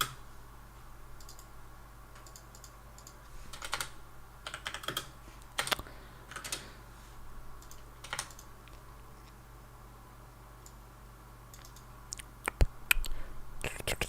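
Rapid clattering keystrokes on a computer keyboard come in irregular bursts of clicks, close and moderately loud, over a steady low hum with no speech.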